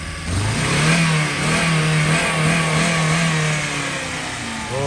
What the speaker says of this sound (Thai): เร่งอีกลุง